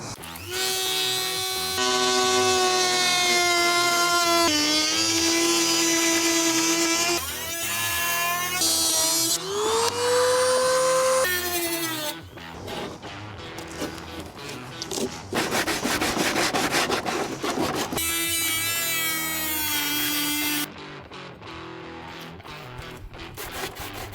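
A power tool with a plastic cutting blade cuts into a 5th Gen Toyota 4Runner bumper, giving a loud, close, sustained whining rasp whose pitch shifts and falls as the blade bogs down, with stops and restarts over about twenty seconds.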